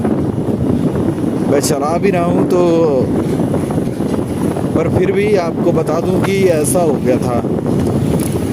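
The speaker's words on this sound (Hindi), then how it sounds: "इतनी तेज़ हवा भी है" Strong wind buffets and rumbles into the microphone of a rider on the move, steady and loud throughout, with someone talking continuously over it.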